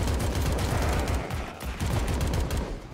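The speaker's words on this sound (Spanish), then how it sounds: "He fallado ahí muchísimos tiros, que lo sepáis." Rapid gunfire from the video game AK-xolotl on PC, a loud continuous fusillade of rattling shots with a brief lull before the shooting resumes.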